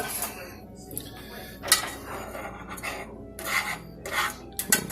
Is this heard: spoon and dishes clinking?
yes